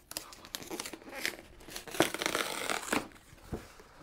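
Cardboard product box for a UDOS 51E polisher being ripped open: close, irregular tearing and crinkling bursts with sharp peaks and quieter handling noise in between, no talking.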